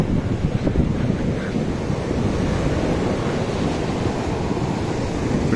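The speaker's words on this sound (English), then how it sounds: "On the beach now." Waves wash steadily onto a beach at Koh Samed, a constant broadband roar of surf mixed with wind buffeting the microphone, loud and continuous with no pauses.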